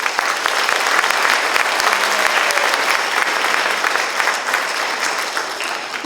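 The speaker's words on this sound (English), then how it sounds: "Please give them a round of applause." An audience claps for a fourth grade school chorus at a spring concert, with dense, steady applause that fills the room for several seconds before easing slightly at the end.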